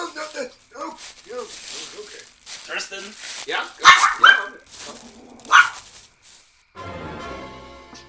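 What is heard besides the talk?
dog barking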